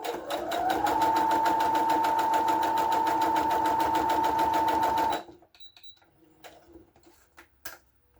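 A sewing machine stitching fabric pockets runs at a steady fast mechanical hum and rattle for about five seconds, then stops, leaving a few faint clicks and handling sounds.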